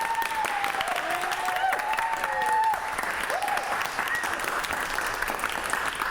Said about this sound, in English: That's an impressive amount of clapping.